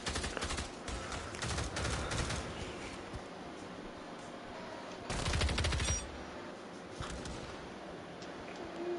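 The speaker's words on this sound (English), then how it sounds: "I can hear shooting." Gunfire in the video game Avatar: Frontiers of Pandora: rapid bursts of automatic shooting, with dense volleys early on and another loud burst later, set against a continuous ambient background.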